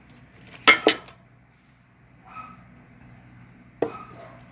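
Utensils mix egg mayo sandwich filling in a bowl, giving a few close clinks and scrapes of metal against dishware, with a quiet pause between bursts.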